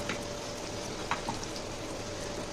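Spice paste for chholar dal sautéing in a pan, a steady low sizzle with a few soft stirring scrapes, close and fairly quiet with no talking.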